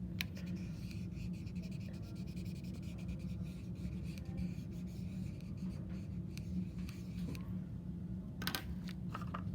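Continuous scratchy strokes of a crayon or marker rubbing across paper, close and fairly quiet, with a few sharper taps near the end.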